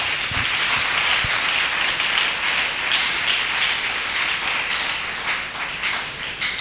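Sustained applause from a church congregation during a Sunday service, a dense steady patter of many hands clapping together, fairly loud and continuous with no talk over it.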